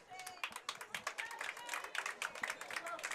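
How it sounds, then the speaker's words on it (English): A high school boys soccer playoff crowd claps steadily as a player jogs off the field. The applause is dense and scattered, and a commentator talks over it. "Shane Smith getting a nice applause as he jogs to the sideline."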